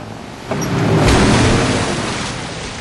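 Steady rushing water of a waterfall in the video game Metal Gear Solid 3, a broad continuous roar that swells after a brief quieter start and holds loud and close, with no voices.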